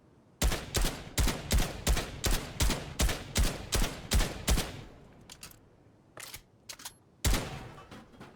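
SCAR and AK gunfire in Fortnite, a steady rhythmic string of about ten sharp shots followed by a pause and a few scattered shots, loud and close with no talk.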